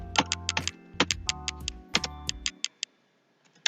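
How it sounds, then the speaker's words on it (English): Rapid keystrokes on a computer keyboard entering a command, a close, crisp run of clicks over about two and a half seconds with a faint hum beneath, then a pause and a final couple of taps. "We are going to type configure terminal."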